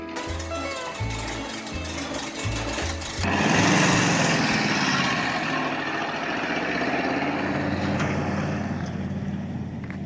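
A rebuilt engine in a 1930 Ford Model A pickup runs close by, a steady rough idle that jumps to a louder, fuller roar partway through and keeps running.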